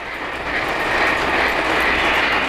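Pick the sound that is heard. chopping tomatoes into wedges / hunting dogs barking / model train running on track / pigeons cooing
model train running on track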